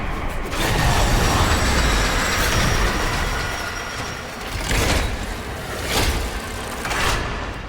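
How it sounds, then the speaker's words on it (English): A train in the video game Warframe rumbles in with heavy low mechanical noise, followed by a few sharp metallic bursts and hisses as it slows. "The next train is arriving."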